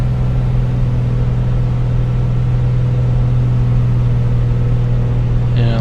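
The propeller engine of a Piper Comanche 250 in the A2A flight simulator drones at a steady, loud hum with no change in pitch.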